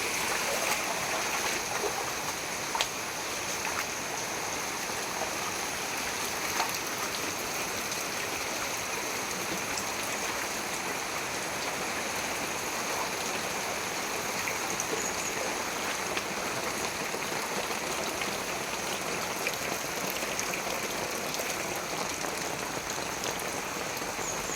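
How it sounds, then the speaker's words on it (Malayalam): Floodwater flowing beside the wall of a flooded house, a steady rushing wash that stays constant and fairly close, with no voices. "പെരയുടെ ഒരു മതിലോട് ചേർന്നിട്ടാണ് വെള്ളം വരുന്നത്"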